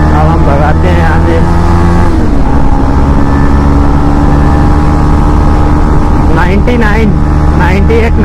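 A KTM Duke 250 motorcycle revving and pulling away, its engine note rising and shifting through gears, loud and close with wind rush, and someone talking over it.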